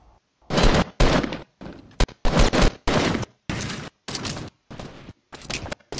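Rapid bursts of gunfire from a Fortnite Battle Royale duo match, a string of loud, close shots and short volleys separated by brief silences, with no talking.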